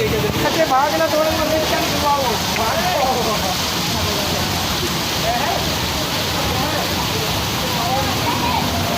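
Rain falls at Korangi crossing in Karachi, a steady, loud, broadband hiss that fills the whole stretch, with voices and street noise mixed in underneath.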